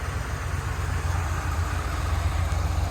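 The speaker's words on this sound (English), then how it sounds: "me open up the hood and show you the motor as it's running." A 1981 Corvette with a four-speed manual idles steadily with the hood open, a low, even engine rumble running unbroken and fairly close for the whole stretch.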